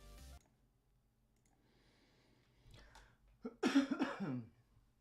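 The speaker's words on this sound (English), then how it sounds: "Try to get the coughs out before I actually start this thing." A person indoors gives a short burst of a few close, dry coughs near the end, after a quiet stretch with faint clicks and a brief throat sound.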